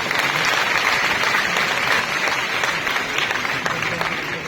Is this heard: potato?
no